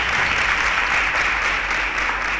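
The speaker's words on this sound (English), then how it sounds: "A round of applause for her" A quiz show studio audience applauds in a loud, dense, continuous wash of clapping that fills the whole stretch without pause.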